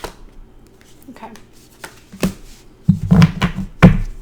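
A deck of tarot cards is shuffled by hand in close, sharp riffles and taps that come irregularly, growing busier toward the end, with a voice briefly present.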